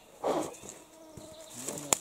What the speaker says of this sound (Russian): Ужас тут какой, комаров.